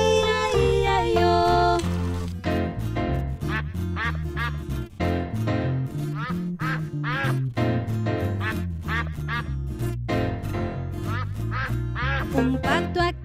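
Repeated duck quacks sound within a lively children's Old MacDonald farm song, mixed under bouncy music and singing throughout.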